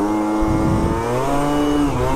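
A 70cc stunt-kit motorbike engine idles and revs just after a kick start, its buzzy harmonic drone dipping and rising close by, alone with no talk.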